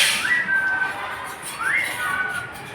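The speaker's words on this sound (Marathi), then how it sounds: "प्रथम शिट्टी मारतोय" Two rising-then-steady whistled notes from a person, fairly close, separated by a short pause, over faint background noise.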